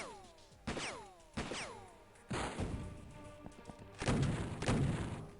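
Shotgun blasts in the Piratez game, four or five loud, booming shots spaced about a second apart, each ending in a short ringing decay, with no talking.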